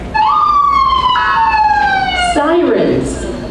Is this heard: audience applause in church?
no